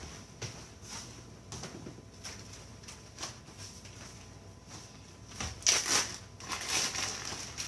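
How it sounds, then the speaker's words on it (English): A plastic freezer bag is handled in a home kitchen, giving scattered crinkles and crackles that swell into a louder, denser rustle near the end, close by with no talking. "Let me get a freezer bag and put these back in the freezer."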